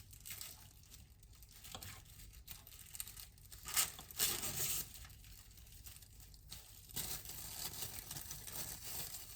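Scissors cutting through a plastic freezer bag in a kitchen while making an apple almond cake, with crinkling and tearing rustles coming in bursts, close and moderately loud, without talk.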